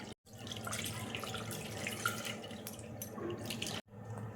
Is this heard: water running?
yes